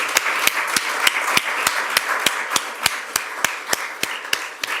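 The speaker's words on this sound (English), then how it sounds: "Would you give yourselves a round of applause for" A conference audience applauds at the close of a 2022 globalisation conference: a broad, steady wash of clapping with sharp, evenly spaced claps from one nearby clapper punching through about three times a second.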